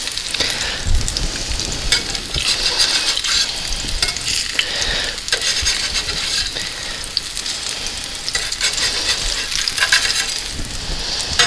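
Food frying in hot oil in a pan at home, a steady close sizzle with stirring and spatula scrapes throughout, no talking.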